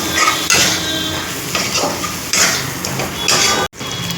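Potatoes and spices stirred together in an egg curry pan, scraping and clinking of a utensil against metal in irregular strokes, close, with a faint sizzle underneath and no voices.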